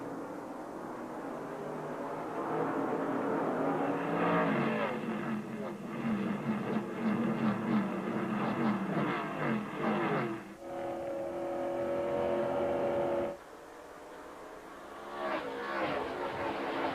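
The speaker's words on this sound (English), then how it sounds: "As the field gets set to go racing, 250 laps, 250 miles around the Milwaukee Mile on July 4th." A field of race cars roars off at the start of the 1999 DieHard 250 on the Milwaukee Mile oval on July 4th. The dense, loud engine drone swells and shifts as the cars pass, then drops briefly before building again.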